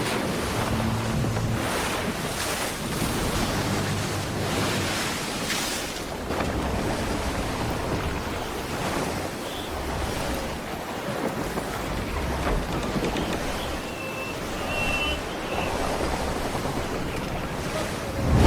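Stormy ocean waves churn and crash around a sailing ship in Assassin's Creed 4 Black Flag Resynced, a dense roar of surf and gusting wind with repeated surges, loud and continuous, no voices.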